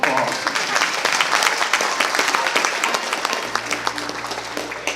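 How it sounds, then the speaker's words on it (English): A bluegrass concert crowd claps at a band's show, producing loud, dense applause. A low sustained tone comes in partway through under the clapping. "Give yourselves a big round of applause."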